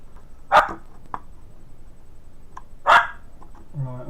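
A dog indoors gives a few isolated barks, two loud ones spaced apart with fainter yips between, heard alone against a quiet room.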